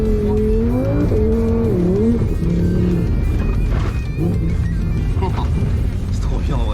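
A Lamborghini at full throttle on a race track, its engine roaring loud and close as the pitch climbs through the gears, with a brief tire squeal and someone talking excitedly over the noise.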